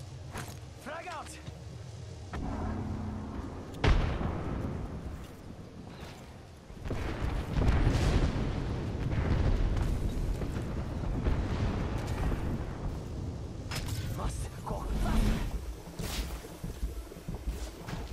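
A frag grenade explodes in the Apex Legends video game, a sudden heavy boom followed by rumbling in-game noise and effects, with a voice talking over the action.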